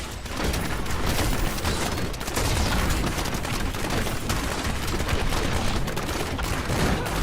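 Grenades explode in Diablo 3 as a Demon Hunter fights, a dense, continuous barrage of loud popping blasts and gunfire-like bursts with no pause.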